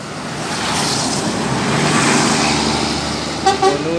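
A large bus rumbles past nearby at a bus terminal in Pekanbaru, its engine swelling then fading, with a short horn toot near the end.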